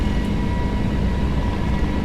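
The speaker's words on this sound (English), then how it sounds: "Always an adventure taking off in this airplane." Airbus A321neo with Pratt & Whitney engines taking off in a flight simulator, a loud steady engine roar and broadband rumble running continuously throughout.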